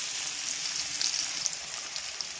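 Whole cumin and onion sizzle in hot oil left from frying fish for a fish curry, a constant close crackling fry with small pops, fairly quiet and without speech.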